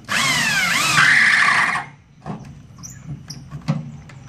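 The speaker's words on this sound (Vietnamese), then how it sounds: "Đây là mình khoan ốc sắt nè" A power drill driving steel screws into an ABS pot mould whines loudly for under two seconds with its pitch rising and dipping under load, then stops, leaving faint handling clicks and knocks.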